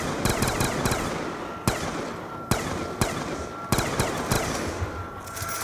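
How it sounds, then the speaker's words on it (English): Gunfire from shooting zombies in the Black Ops 2 Buried game: rapid automatic bursts at the start, then single loud, sharp shots spaced about a second apart, close and dominant. "good for just casually shooting zombies mindlessly"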